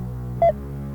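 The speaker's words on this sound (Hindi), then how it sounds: "कंप्यूटर जी, इनके मित्र को फोन मिलाया जाए।" A mobile phone being dialed gives a single short electronic key beep over a steady low hum.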